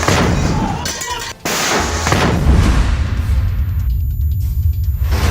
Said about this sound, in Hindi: जिसके बाद बहुत बड़ा धमाका होता है और बुलडोजर आग के गोलों में तब्दील